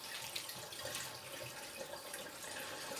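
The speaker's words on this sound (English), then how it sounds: "So we'll drain them, rinse them under cold water and pop them straight into another ice bath." Cold tap water runs steadily over potatoes in a sink as they are rinsed, a continuous soft hiss and splash with faint drips, fairly quiet and with no talk.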